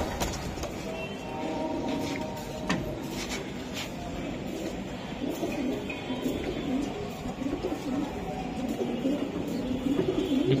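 Old-breed racing high-flyer pigeons coo in a loft, soft rolling calls repeating over a continuous low background hum and rustle, close by, with no talk.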